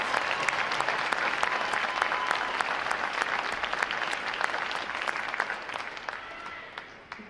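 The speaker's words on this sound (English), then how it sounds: "A round of applause for you for supporting your sailors." A large audience claps steadily at a U.S. Navy recruit training boot camp graduation ceremony, a dense, sustained wash of applause that slowly thins toward the end.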